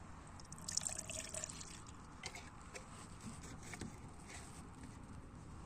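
About 100 ml of a liquid molasses-based microbial fertilizer product is poured into roughly 1.8 litres of water, giving a faint, steady trickle and drip of liquid that holds through the whole stretch.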